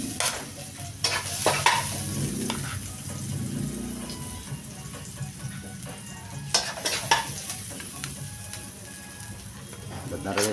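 Garlic stir-fried in a pan for pochero, giving a steady sizzle with scraping stir strokes and occasional clatter, with voices talking intermittently over the cooking.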